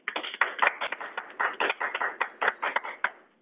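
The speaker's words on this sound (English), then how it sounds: "So everyone give a big round of applause to Garrett." A small group at a medical clinic presentation clapping, with distinct, separate claps in an uneven rhythm over a few seconds, fairly close and thin rather than a full roar of applause.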